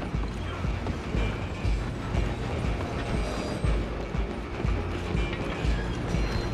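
A train runs in Red Dead Redemption 2, heard as a steady rumbling, clattering mechanical roar with rhythmic knocks, loud and continuous throughout without pause.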